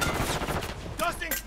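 Dense gunfire in the Warzone 3 Fortune's Keep battle royale, with rapid close shots and bursts running throughout, while a game announcer voice speaks over part of it.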